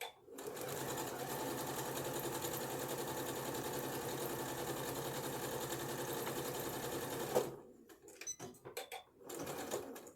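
A sewing machine runs in a steady, loud continuous whir for about seven seconds while backstitching a garment seam, then stops; afterward come scattered handling clicks and small noises.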